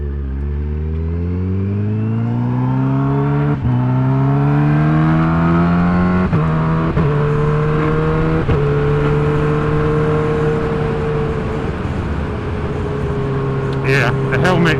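A Kawasaki Ninja H2 motorcycle engine heard close up while riding, its loud tone rising steadily through the gears in repeated climbs, with brief dips at each shift and constant wind rush.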